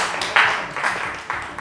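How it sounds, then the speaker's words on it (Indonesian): An audience claps at a one-year anniversary episode of a creative talk show, a short burst of applause that swells and fades over under two seconds. "Boleh tepuk tangan buat mereka juga dong."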